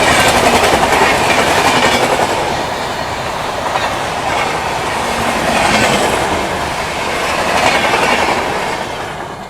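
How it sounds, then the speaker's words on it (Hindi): Punjab Mail express train running past at close range, a loud continuous rumble with rhythmic clickety-clack of wheels over rail joints that swells and eases as the coaches roll by. "तो सामने से आती हुई Rameswaram Firozpur cantt Humsafar express, Punjab mail."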